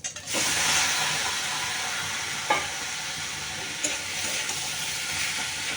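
Vegetables hit a hot pan with eggs and fish roe, setting off a loud, steady sizzle and hiss that carries on with a few stirring clatters.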